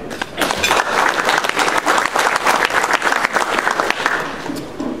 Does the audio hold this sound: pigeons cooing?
no